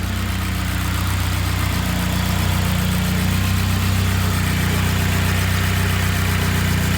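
Honda K24-swapped BMW E36 running with a turbo after a head gasket fix, engine held at a loud, steady, close drone under light throttle, with no talk.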